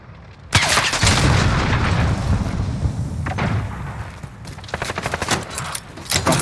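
Call of Duty Modern Warfare team deathmatch combat: a loud grenade blast followed by sustained bursts of gunfire, heavy and close, with rapid volleys of shots continuing through to the end.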